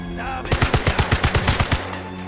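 Video game gunfire, a fast burst of about ten closely spaced shots, loud and near, with no talk over it.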